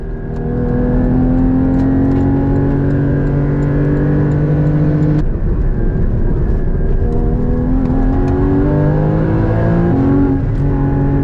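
A Porsche 981 GT4 laps the Nordschleife with a loud, steady engine drone heard from inside the car, holding a high note before a sudden gear change drops the pitch and the engine climbs again.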